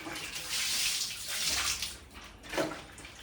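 Water splashed across floor tiles to rinse them after scrubbing, heard as a close, rushing pour that surges and fades in a few bursts, with no talking.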